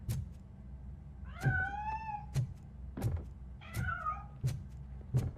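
A cat in the video game RoboCop: Rogue City gives two drawn-out meows, separated by soft regular thuds, clear and fairly close against a quiet background.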